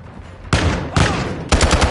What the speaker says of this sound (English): He's just popping out and shooting.